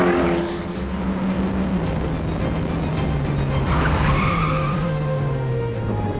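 Formula 4 race car locking a wheel under hard braking: a sustained tyre skid and squeal over the engine note, heard from onboard, steady and fairly loud for several seconds with no talk.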